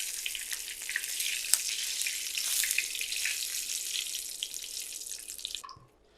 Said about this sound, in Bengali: মরিচগুলো ভাজা হয়ে গেছে।